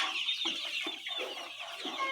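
Layer hens cluck and chatter in a lively, repeated rhythm, several birds close by with no talk over them.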